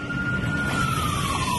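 A fire engine siren wails with a single steady tone that slowly falls in pitch, heard from a distance at a hotel fire where several fire trucks arrive, over a dense rumbling background.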